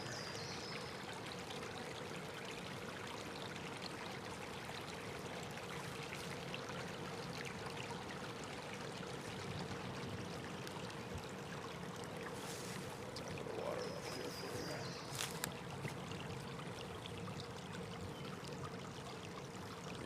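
A stream trickles along a walking path in Rhode Island, a faint, continuous watery babble in the background with occasional light clicks and rustles.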